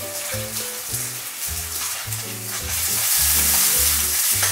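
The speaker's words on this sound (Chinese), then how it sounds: "两面都煎上差不多3分钟吧，也是煎到鱼皮都金黄" Crucian carp fries in a pan as its skin turns golden, with a dense, close crackling sizzle that swells louder toward the end and no voices.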